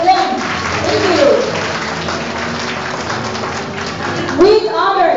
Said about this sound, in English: What about a big round of applause for them?